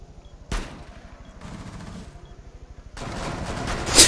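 Gunfire in the tactical shooter Rainbow Six Siege during a bomb match on the House map: rapid automatic bursts with a sharp shot near the start, a stretch of steady rattling fire in the middle, then a denser, louder volley toward the end.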